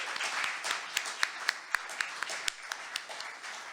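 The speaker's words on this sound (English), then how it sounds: "I think he is due another applause," Audience applause for the mayor at a Houston COVID-19 event with St. Luke's Health and Texas Southern University: a steady, moderately loud wash of clapping with a few sharp individual claps standing out, continuing throughout.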